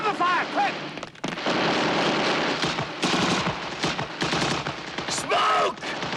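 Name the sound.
machine gun fire in a war film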